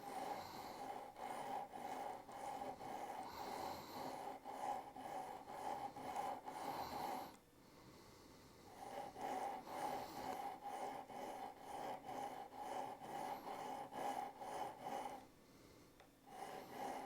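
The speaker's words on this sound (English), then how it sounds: "And now I sharpen with the Victorinox Dual." Serrated Swiss Army knife blade drawn through a Victorinox Dual sharpener, producing close, steady raspy grinding strokes with a faint ringing tone, pausing briefly midway and again near the end.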